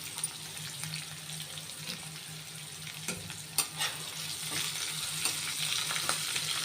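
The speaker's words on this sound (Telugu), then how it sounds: "ఆనియన్స్ అల్లం కూడా వేసేస్తున్నానండి ఇవి కొంచెం వేగిన తర్వాత" Onions and ginger frying in oil for a ragi breakfast dish, a soft steady sizzle with occasional stirring clinks and scrapes, fairly quiet and close, with a low background hum and no talking.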